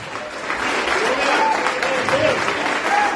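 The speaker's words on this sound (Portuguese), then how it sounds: "Pode aplaudir." A church congregation claps together during a Sunday worship service, a dense steady wash of applause filling the room, with cheering voices mixed in throughout.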